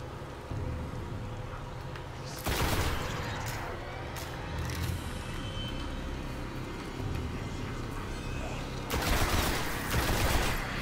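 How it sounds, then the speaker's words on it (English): Gunfire in the Destiny beta on PlayStation 4 comes as two bursts of sharp, loud shots, one early and one near the end. Game ambience and low rumble fill the gaps between them. "Just gonna hip fire that guy."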